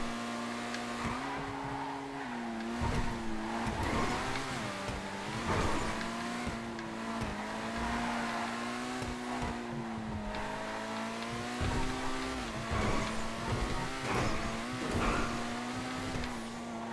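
A supercar racing around a track in the GTA FiveM video game roars with high revving engine tones that rise and fall through gear changes, mixed with tire squeal and skidding, loud and continuous throughout.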